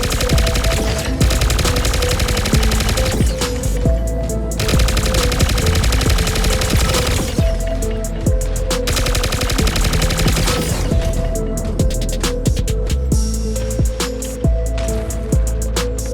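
Loud, sustained bursts of rapid automatic Berserker weapon fire from mechs in the game Mech Arena, with brief pauses between volleys and steady electronic game sound underneath.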